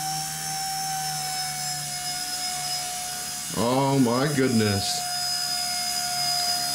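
A Nano S3 micro RC helicopter flies indoors in a house, giving a steady high-pitched rotor whine and motor hum throughout, with a voice exclaiming briefly in the middle over the buzz.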